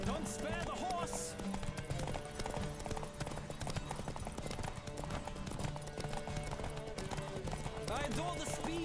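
Galloping hooves drum in a fast, even rhythm during a horse race in The Witcher 3, up close throughout, while voices talk and call out over them.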